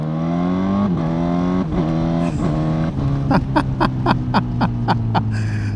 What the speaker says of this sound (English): it still has that MotoGP sound. See, if you go all the way down to second.